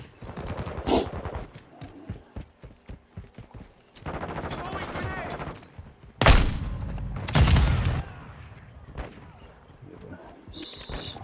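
Rapid bursts of automatic gunfire and a few heavy booms in Call of Duty: Modern Warfare II, loud and close, with people talking over the shooting.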